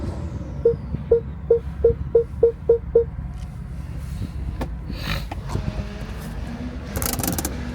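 A BMW S55 engine's two-step launch control pops in a rapid string of about eight sharp, evenly spaced bursts, then settles into a low idle with scattered clatter.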